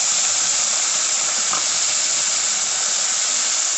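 Onion paste hitting hot oil in a pan while cooking a Bengali kochur shag dish gives a steady, loud hiss and sizzle that holds evenly throughout, with no talking.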